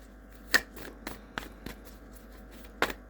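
A deck of cards being shuffled in a quiet room, with a few soft riffling bursts and scattered card taps spread across the clip, faint and close, with no voices.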